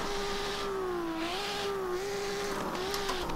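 A drift car engine in the racing game Assetto Corsa drones steadily, its pitch dipping and rising slightly as it revs, with a faint tire squeal and no talking.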